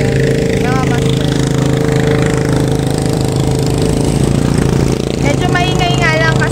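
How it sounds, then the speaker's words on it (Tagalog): Boat engines chug loudly and continuously as boats pass along a river at a fishing spot in Paombong, Bulacan, a close, rough mechanical drone with voices talking over it. "Medyo maingay nga lang kasi maraming mga dumadaang bangka."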